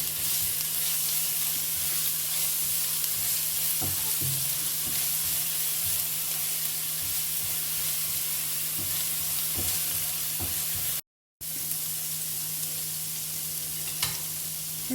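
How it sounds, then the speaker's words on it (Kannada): Ginger garlic paste fries in a small amount of oil for a mutton masala curry, giving a dense, even sizzle close by with occasional stirring clicks and a low steady hum underneath, uninterrupted by talk. "ಎಣ್ಣೆಗೆ ಜಿಂಜರ್ ಗಾರ್ಲಿಕ್ ಪೇಸ್ಟ್ ಹಾಕೊಳ್ತಾ ಇದ್ದೀನಿ"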